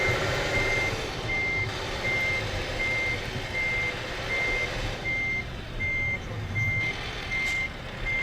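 Scania truck in Euro Truck Simulator 2 sounding a steady, evenly spaced series of reversing beeps over a low engine rumble, clear and continuous with no talking.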